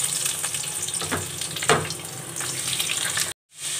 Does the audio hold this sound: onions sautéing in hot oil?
yes